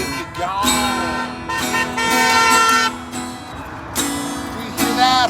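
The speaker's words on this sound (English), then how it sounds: "We hear that honk" Loud, close vehicle horn honks in long sustained blasts on a city street in Denver, with a shorter pause between bursts and traffic noise underneath.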